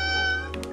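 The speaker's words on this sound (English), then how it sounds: "The cat is actually waiting to be petted." A cat in the video game Calico lets out a short, clear meow over a steady electronic music drone, with a couple of quick soft chirps at the end.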